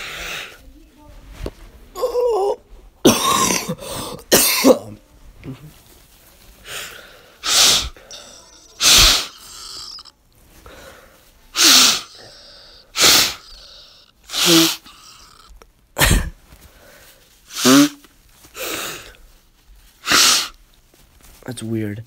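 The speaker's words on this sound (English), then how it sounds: "Every time I blow my nose, my nose does this funny thing." Repeated nose blowing produces a long series of sharp, loud breathy honks and snorts, some with odd squeaky tones, at an uneven but steady pace over about twenty seconds, with quieter sniffles between bursts.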